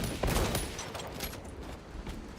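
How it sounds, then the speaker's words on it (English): Rapid bursts of heavy bolt pistol gunfire in a Warhammer 40K video game, several loud close shots in the first second trailing into a dense, noisy rumble of continued fire. "I love the heavy bolt pistol."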